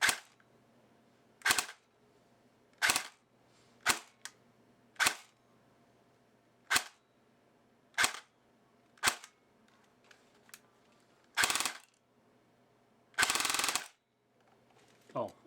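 A Valken airsoft battle rifle fires single shots outdoors, about a dozen sharp separate cracks at irregular intervals of roughly one second, close and loud against quiet background.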